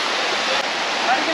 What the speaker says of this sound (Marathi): वसुंधरा वॉटरफॉल